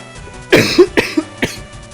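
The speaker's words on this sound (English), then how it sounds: "You have to cough." A person coughs several times in quick succession, close and fairly loud, with short harsh bursts and brief gaps between them against a quiet background.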